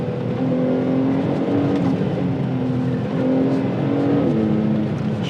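A Porsche 911 Turbo on winter tyres accelerates on a slippery road, its turbocharged engine giving a steady, muffled, rising drone heard from inside the car, with repeated tone steps as revs climb.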